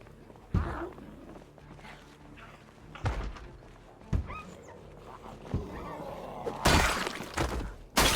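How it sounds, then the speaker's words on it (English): Glass shatters as a window is smashed in Project Zomboid, with a bright crash near the end following several dull blunt thuds and scattered impacts against faint background ambience. "Oh no, you destroyed a window."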